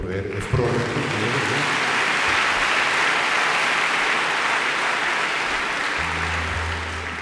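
Applause at a full concert at the Megaron in 2012, a broad, steady roar of many hands clapping that swells and then eases slightly, with brief voices and instrument tones at the edges.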